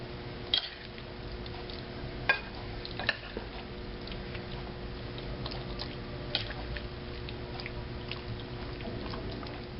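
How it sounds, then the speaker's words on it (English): A spoon scoops and presses a soft stuffing mixture into bell peppers set in a baking dish, giving quiet, moist squishing and scraping with occasional small clicks against the dish, steady and close. "it's basically just spooning that mixture into our pepper until it's full. Pat it down and set it into our baking dish"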